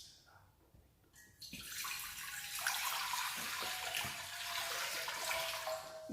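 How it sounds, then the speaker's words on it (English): Water pours steadily from a tap into a cooking pot, a continuous close rushing splash that starts after a moment of quiet and keeps going at an even level. "I'm going to start by adding some water."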